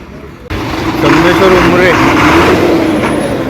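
A bus travels along Devrukh road with a loud, steady engine rumble and road noise, and someone talks over it throughout.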